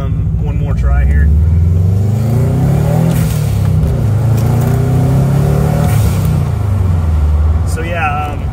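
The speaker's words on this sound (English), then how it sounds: "Kind of your normal blow-off valve sound." A turbocharged car revs hard with a loud, close engine roar rising and falling, ending in a sharp hissing release from a cheap aftermarket eBay blow-off valve, with brief talk near the start.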